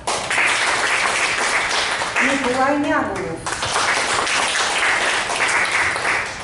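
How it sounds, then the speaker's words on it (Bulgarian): Audience applause at the 2024 annual literary awards of the Plovdiv Writers' Society: continuous crowd clapping fills the room while a voice speaks briefly over it midway. "Наистина заслужават аплодисментите"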